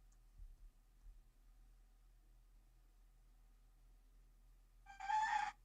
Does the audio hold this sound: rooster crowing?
yes